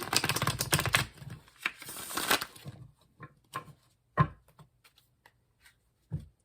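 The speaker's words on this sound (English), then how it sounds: "I give them a really good shuffle beforehand, and I do it during the reading" Tarot cards riffle and flutter rapidly for a few seconds, close by, then give way to a handful of soft taps and knocks as they settle.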